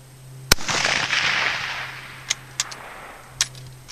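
Rifle shots at a 300-yard range during load development: one loud close crack with a long rolling echo, then four sharper, quieter reports spaced irregularly afterward, with no voices.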